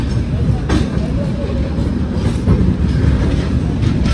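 An intercity train departing from Mumbai rolls on the rails with a loud, steady rumble and periodic wheel clacks, heard close from on board.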